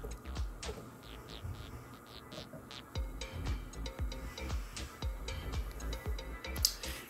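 Hard drives in a Synology NAS seeking after a wake-on-LAN start: quiet, irregular ticking and clicking over a low steady hum, heard close with no voices.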